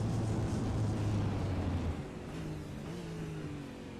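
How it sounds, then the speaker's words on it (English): V8 Supercar race engine in the iRacing sim, driven at COTA while saving fuel, drones at a low steady pitch that drops noticeably partway through and settles into a lower, quieter hum. "listen to the engine"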